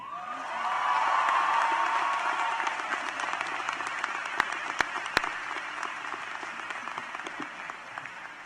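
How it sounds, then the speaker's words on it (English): Graduates and audience at a 2018 high school graduation clapping loudly after a speech, a broad swell of applause with some cheering and whoops early on, settling into steady clapping with a few sharp individual claps standing out. "tell them to at least clap very loudly when I finish this speech"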